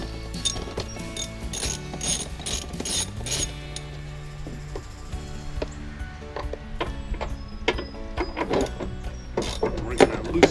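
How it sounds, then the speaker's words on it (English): A ratchet wrench clicks repeatedly as bolts on a Toyota Tundra TRD Pro intake are loosened, with close, sharp bursts of ratcheting among clanks and faint background talk. "We're gonna loosen these bolts."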